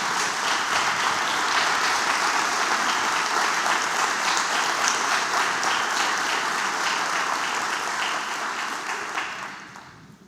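A church congregation at a Sunday morning service bursts into loud, sustained applause, a dense wash of clapping that holds steady for several seconds before fading away at the end.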